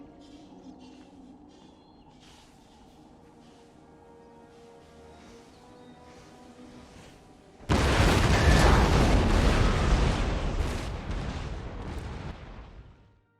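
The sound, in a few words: artillery battery firing in video game Empire: Total War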